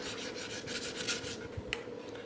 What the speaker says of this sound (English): Make sure you're scraping the sides of the pan.